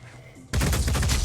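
Gunfire in Phoenix Point: Terror from the Void, erupting suddenly after a quiet moment as a loud, dense burst of rapid overlapping shots that continues without pause.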